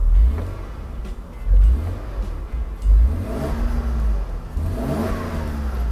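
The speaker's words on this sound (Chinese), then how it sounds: "大哥来试着加油。" A Mercedes R129 300SL with the M104 engine is revved under test: several loud, low throttle blips rise and fall over a rumbling idle at close range, alone with no talking.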